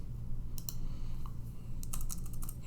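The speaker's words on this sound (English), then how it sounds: "I'm going to type" Typing on a computer keyboard during a statistics lecture: a few scattered key taps, then a quick close flurry of clicks near the end, over a low steady room hum.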